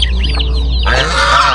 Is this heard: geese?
yes